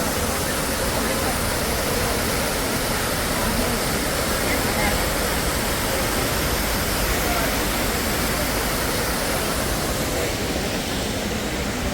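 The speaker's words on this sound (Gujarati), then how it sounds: "મારી પાછળ તમે જોવો બગડાટી બોલાવતો ધોધ" A large waterfall in Kerala roars without pause, a thick broadband rush of falling water that fills the whole scene at constant loudness, close and overwhelming.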